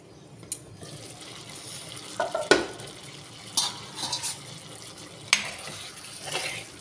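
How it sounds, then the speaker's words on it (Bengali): Chicken cooks in a covered pan for a handi dish, giving a faint watery sizzle with a few sharp clinks and scrapes of a lid or utensil against the pot, quiet and intermittent with no voices. "এবার চিকেনটা একটু ঢাকা দিয়ে দিয়ে কষে নেব।"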